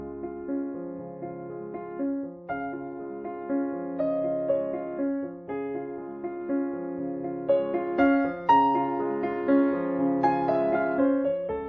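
Solo piano playing Chopin's Nocturne Op. 27 No. 2, a soft flowing melody over a gently rolling left-hand accompaniment, sustained and quiet throughout.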